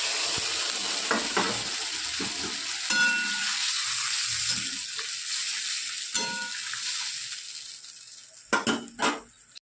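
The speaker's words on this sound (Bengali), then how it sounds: "আমি এর মধ্যে অল্প করে একটু জল দিয়ে দিচ্ছি।" Spices, pumpkin and potatoes sizzle and hiss steadily in a hot pan as a little water goes in, with occasional stirring scrapes and a few clattering utensil knocks near the end, no talking.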